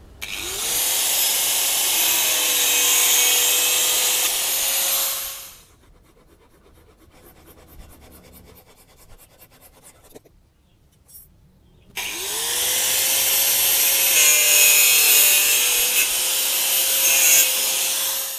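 A piece of wood is sawn into ring blanks with a loud, whining power cutter: two long sustained bursts of cutting noise separated by a quieter stretch of rhythmic ticking and scraping.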